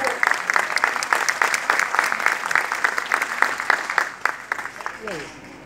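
An audience at a live talk on a rapid phobia cure breaks into applause as a participant comes up on stage, a loud, dense burst of clapping that carries on steadily and tapers off near the end.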